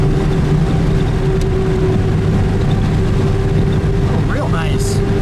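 A 1936 Bentley Derby 4¼ Litre in beige cruises with a steady, close engine drone and road rumble, with a brief passing chirp near the end and no talk over it.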